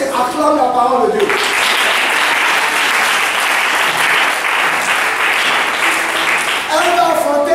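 A church congregation breaks into loud, sustained applause lasting several seconds, with a speaking voice just before and after the clapping.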